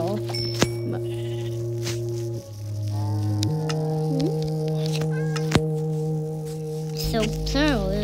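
Sheep bleat in the video game Minecraft: long, steady, wavering tones from a few animals, fairly close, with a couple of short clicks and no talk.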